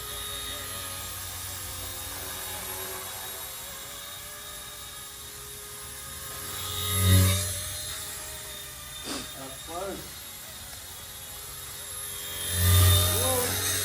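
A small toy helicopter whirs steadily nearby, its pitch wavering, with a few louder bumps and thumps as it moves around.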